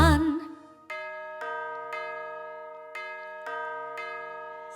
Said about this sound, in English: School bell ringing, school bell ringing.